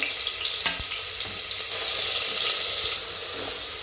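Grated coconut roasting in about two spoonfuls of hot oil for a village-style chicken amti: a steady, close hiss of frying with a few soft stirring knocks, no voices.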